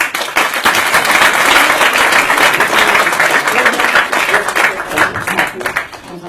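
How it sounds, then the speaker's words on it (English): Continuous applause from the audience at a mentalism parlour show as a volunteer comes up onstage, with many hands clapping in a thick, steady roar that swells slightly and then tapers. "everyone give a huge round of applause"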